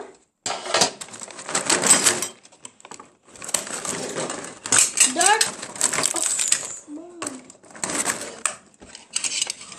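Small toy plates from a newly opened play set are unpacked and handled: bursts of light plastic clattering and clinking, up close, with voices in between.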